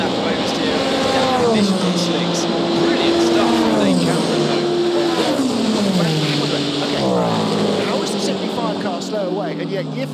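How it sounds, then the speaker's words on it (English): A Le Mans race car, Miguel Molina's number 50, during the 2023 24 Hours of Le Mans, its engine note rising and falling through gear changes as it passes, heard continuously beneath a commentator's voice. "here comes Miguel Molina in the 50 car. Wicked snap as he gets on the power"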